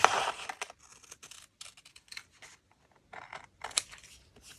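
Scissors snip through paper ephemera printed for a DIY old-photo craft, several crisp close cuts with brief gaps between them, no talking.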